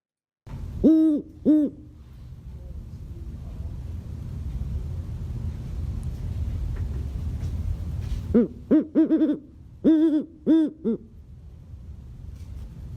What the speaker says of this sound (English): I hear this hoot all the time. Such a classic hoot.